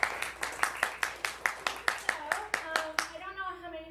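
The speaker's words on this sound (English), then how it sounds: "Let's a round of applause for her." Scattered hand clapping from a small audience at a high school chapel service, roughly a dozen distinct claps in a loose rhythm that thin out and fade over a few seconds.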